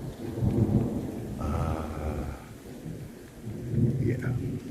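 Thunder rumbles low under steady rain pattering on surfaces during the first rain of hurricane season, a continuous wash of drops with a rolling boom near the start and end, and no one speaking.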